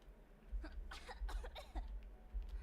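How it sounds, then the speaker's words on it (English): A person coughs violently in a rapid run of several harsh, sharp bursts, faint and somewhat distant over a low hum. "Kana starts coughing violently"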